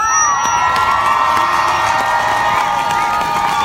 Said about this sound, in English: Hear the kids cheering for you?